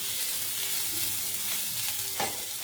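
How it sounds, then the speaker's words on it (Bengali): Spice paste sizzles and fries steadily in a hot pan as it is sautéed, a continuous close hiss with a brief louder crackle near the end and no voices. "মশলাটা কষানো হতে থাক"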